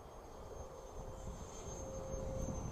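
An LX Models F-117 Nighthawk 70mm EDF model jet flies at a distance, its electric ducted fan producing a thin, steady high whine over broadband rushing and wind noise, fairly faint and constant.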